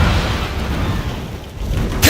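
A Confringo blasting spell fires in Hogwarts Legacy, producing a heavy low boom and rumbling roar that fades slightly before a sharp bright burst at the very end, with a brief spoken incantation mixed in.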